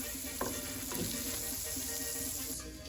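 Butter and a little regular oil sizzle steadily in a pan on the stove, a continuous crackling hiss with a few brief clinks and scrapes near the start, easing slightly at the end.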